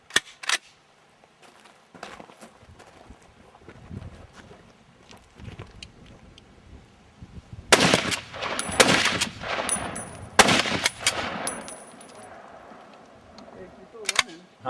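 Sharp gunshot cracks ring out outdoors during a deer tracking and hunting trip, with several louder bursts in the middle amid wind and handling noise, and people talk between them.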